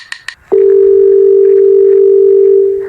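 A phone emits a continuous steady dial tone after a couple of brief button beeps, loud and close, holding for about two seconds before cutting off.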